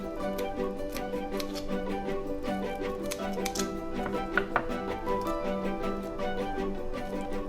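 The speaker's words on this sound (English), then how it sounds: "Now I'm going to cut it the shell part. I'm not going to remove it, I'm just going to cut it in half." A knife cuts through the shell of a tiger prawn, a steady run of crisp, rapid ticking clicks with a few sharper snaps, close and alone without speech.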